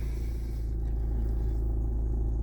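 Peugeot 308 1.6 HDI diesel from 2017 with about 145,000 km, idling after starting, a steady low engine rumble with a faint hum above it, constant and close, with no voices.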